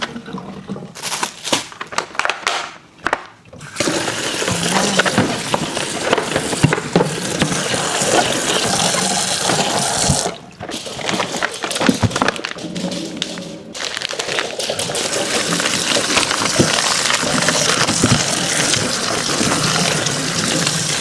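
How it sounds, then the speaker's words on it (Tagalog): Tap water gushes loudly and steadily while packaged food is rinsed under it, with a few brief pauses where the flow is interrupted before resuming. "Hugas-hugas lang na maayos."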